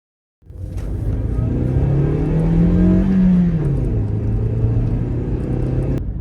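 Toyota Yaris driving: a steady close engine rumble with a rising and falling rev swell midway, road and cabin drone continuous throughout, no voices.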